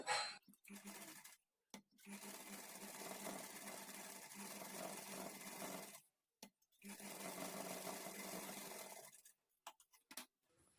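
A domestic sewing machine stitching lining to main fabric for puff sleeves, running in two long steady bursts of fast rhythmic whirring, with short stops and quiet gaps between runs.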